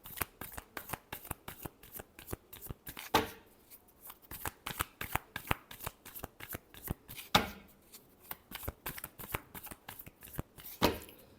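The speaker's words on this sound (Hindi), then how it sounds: "Last shuffle." Tarot cards being shuffled by hand, a steady run of rapid riffling flicks close up, with a couple of louder bursts where the deck is bridged or tapped.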